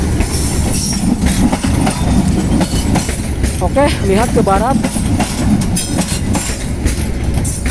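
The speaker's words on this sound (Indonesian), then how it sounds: "Bentar, ada kereta lewat, berisik." A train rumbles past close by near Padalarang station, Indonesia, with loud, continuous clattering and brief squealing wheels, while a person talks over the noise.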